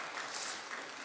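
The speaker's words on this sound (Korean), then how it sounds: "박수하겠습니다." A church congregation applauds during a Korean Presbyterian Sunday service, a dense, even wash of many hands clapping at a distance, fairly faint and brief.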